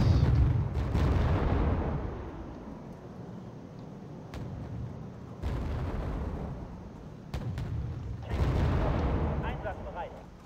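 Cluster bombs burst in Wargame: Red Dragon over East Germany, deep rolling booms and crackling detonations swelling in several waves while someone talks over the battle.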